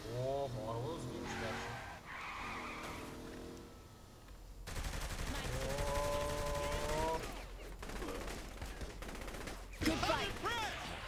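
Shotgun fire in the video game Saints Row: The Third, with several sharp blasts mixed among engine noise and skidding, while people talk over the action.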